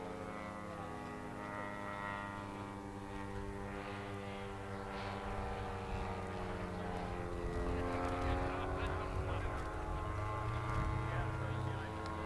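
A World War I model aircraft engine drones steadily at a model air show, a sustained propeller buzz whose pitch shifts slightly as it runs, heard at moderate distance with no talk.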